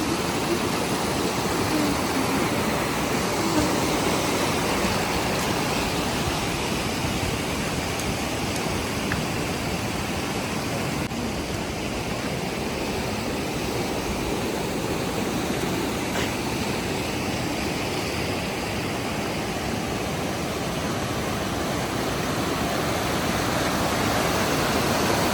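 Stäubifall waterfall in Switzerland, a steady, loud broadband roar of falling water that holds unchanged throughout, with no voices.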